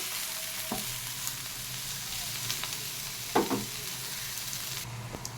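Pumpkin greens with prawns, turmeric and mustard being stirred in a pan, giving a steady low sizzle with a few sharp scraping knocks of the spoon, close and fairly quiet, no voices.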